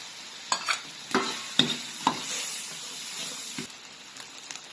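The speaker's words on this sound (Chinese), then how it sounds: "这个兔肉的话，多炒一会儿了，把香味炒出来" Rabbit meat is stir-fried with scallion, ginger and garlic in a pan, giving a steady sizzle under sharp, irregular scrapes and knocks of the spatula, with no one speaking.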